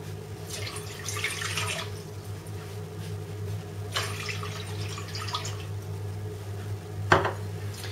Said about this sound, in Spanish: Lo primero que vamos a hacer es poner en una olla aproximadamente 3 cuartos de litro de agua.